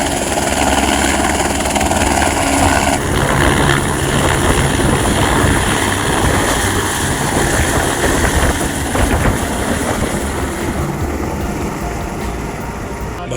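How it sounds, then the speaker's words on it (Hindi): A helicopter at the Kedarnath helipad, its engine and rotor making a loud, continuous broadband roar and whine that holds steady nearby throughout and eases slightly toward the end. "तो जो फाटा से हेलीकॉप्टर की जो सेवा चलती है वो सीधा लोगों को यहीं पर उतारती है।"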